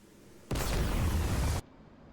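A shot-down Mi-24 helicopter explodes in the combat flight sim DCS World, a sudden loud, dense roaring blast lasting about a second before cutting off abruptly.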